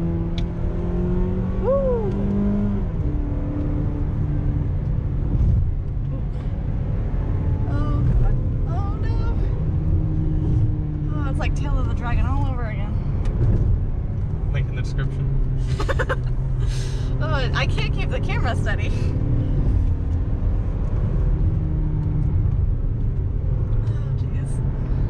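The 2.5-liter engine of a 2020 Mazda CX-30 hums and rises as the car accelerates through manually shifted gears. The low drone is heard from the cabin and continues beneath someone talking.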